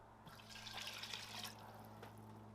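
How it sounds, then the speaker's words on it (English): Two cups of water pour into a cooking pot for a homemade Mexican pizza, a quiet splashing trickle lasting a couple of seconds over a low steady hum. "And now you want to throw in 2 cups of water."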